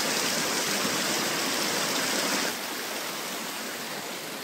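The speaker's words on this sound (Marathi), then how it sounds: "इकडे मस्त पाणी वाहत आहे." Water flows in a stream near an ashram on the Narmada river route, a loud, steady rushing hiss close by that eases slightly partway through.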